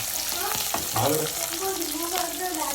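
Potatoes frying in a pan at home, a constant close sizzle with stirring scrapes, and faint voices talking in the background.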